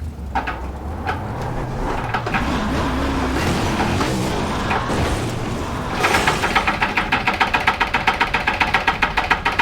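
A 410 sprint car lapping Williams Grove in a sim racing video game, a loud engine rising and falling through the corners, then a harsh, rapidly pulsing high-revving roar down the straight.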